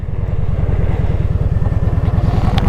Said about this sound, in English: This is a great bike. This is a V-twin.